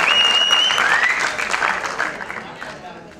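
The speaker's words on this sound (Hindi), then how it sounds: "आज फिर सुनील शेट्टी जी, तालियां जोरदार होनी चाहिए" Crowd at an award event honoring actor Sunil Shetty breaks into strong applause that fades over a few seconds, with a faint whistle near the start.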